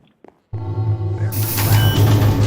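A door in the Minecraft game swinging open and shut inside a creative-mode build, a brief faint click followed by a loud, sustained burst of sound that keeps going to the end.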